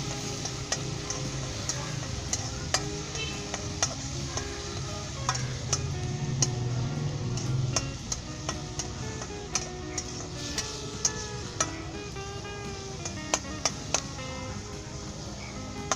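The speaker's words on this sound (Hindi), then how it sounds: "और अच्छे तरीके से इसे मिक्स कर लेंगे" Vegetables with soy sauce and spices such as cumin, red chilli, dried fenugreek, black pepper and a chicken cube are stirred in a pan, a soft sizzle under repeated sharp scrapes and taps of the utensil, close and without speech.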